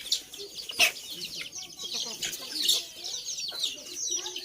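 Chickens cluck and chatter in a lively, continuous stream, with sharp bursts now and then over a noisy outdoor background, while faint talk mixes in.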